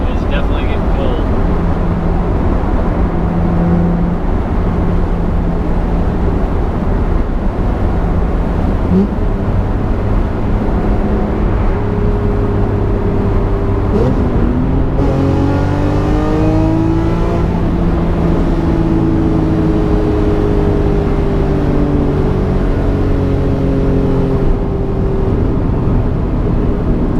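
A BMW E46 M3 engine roars under hard acceleration on a freeway, induction noise prominent, pitch climbing through gear changes with a loud, continuous road and engine drone, voices occasionally over it.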